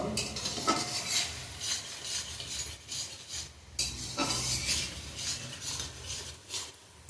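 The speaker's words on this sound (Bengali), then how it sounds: "আবারও বেশ কিছু কষিয়ে নেব" Egg curry gravy being sautéed with sour yogurt and sugar, a steady sizzle with scraping stirs of a spatula against the pan, fairly close and continuous with no talk.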